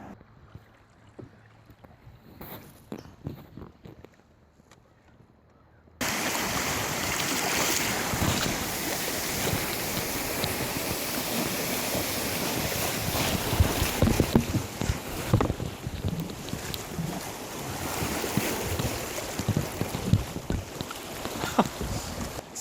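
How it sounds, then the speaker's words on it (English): A canoe runs small rapids on the North Saskatchewan River, with rushing, splashing water and wind buffeting the microphone, loud and close; a quieter stretch comes first before the churning water cuts in abruptly. "Tough being a camera operator when you're in rapids."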